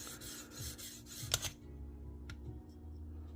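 A Case Sodbuster knife blade is drawn back and forth on a TS Prof Kadet Pro sharpener, giving several quiet rasping strokes in quick rhythm, then a sharp click and faint scraping as it settles.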